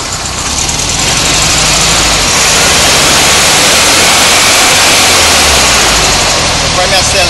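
A Volkswagen Fusca 1600 running on alcohol fuel roars loud and close, its engine holding a steady, dense drone with no breaks.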